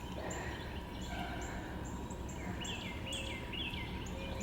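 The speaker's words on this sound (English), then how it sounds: "The birds are all happy this morning." Morning birdsong outdoors in spring near a blooming dogwood, several birds calling and chirping repeatedly at a moderate distance over a steady background hum, with no talking.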